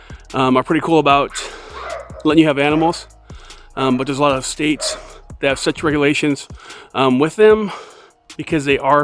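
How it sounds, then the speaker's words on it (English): A neighbor's dog barks and yips in the background, faint and intermittent, beneath someone talking steadily up close. "You can hear my neighbor's dog barking."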